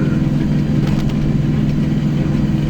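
A tractor engine drones steadily and loudly while pulling an 8-foot brush hog mower through a field, a constant heavy rumble with no pauses and no talk.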